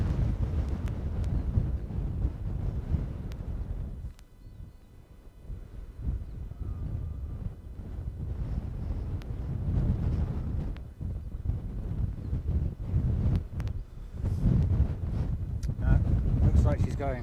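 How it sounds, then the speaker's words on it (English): Strong gusting wind buffets the microphone near an airport runway as an Emirates jet comes in, a loud broadband roar that swells and eases in waves, briefly dropping before rising again, with faint talk underneath. "why is that wind picking up now?"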